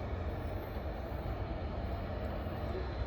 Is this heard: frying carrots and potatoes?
no